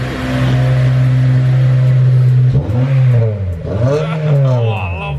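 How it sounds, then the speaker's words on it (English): A Honda Civic Type R EP3's loud exhaust drones at a steady idle after a year standing unused, then revs up and down in several swelling blips, close and throaty. "Listen to that exhaust though."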